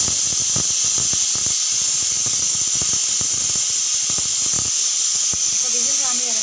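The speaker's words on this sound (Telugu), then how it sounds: "ఒక విజిల్ వచ్చే వరకు పప్పు ఉడికించుకోవాలి" A pressure cooker cooking moong dal with fenugreek leaves on a stove lets out a loud, steady hiss of steam with scattered clicks throughout. A faint voice is heard briefly near the end.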